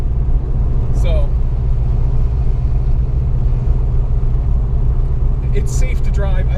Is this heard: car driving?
yes